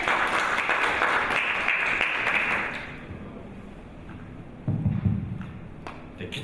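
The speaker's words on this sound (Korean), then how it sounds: "큰 박수로 맞아주십시오" Near the start, applause rises at a Korean university innovation forum session as the last presenter is welcomed. It is dense clapping that cuts off at about three seconds, followed by quieter room noise and a brief thump.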